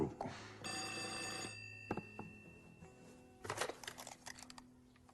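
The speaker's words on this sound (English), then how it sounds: "Pick up the phone." An old-style telephone bell rings in a sustained metallic burst, then cuts off, followed by a few clunks and rustling handling noises.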